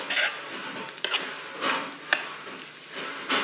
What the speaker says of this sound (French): Et tu viens mélanger.